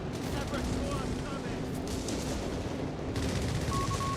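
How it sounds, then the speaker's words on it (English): Stuka dive bomber fire in the strategy game Company of Heroes 3, a steady rumbling barrage of overlapping gunfire and blasts, with a brief whining tone near the end under the battle noise. "We have Stuka fire coming in."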